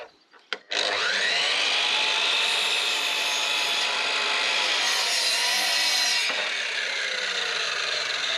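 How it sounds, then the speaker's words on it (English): A power saw cuts through a wooden batten for a geodesic dome in one long, loud, continuous pass close by, with a couple of sharp knocks just before the cut and the tone fading slightly as it finishes. "So we have cut 2 different sizes of batten for the dome."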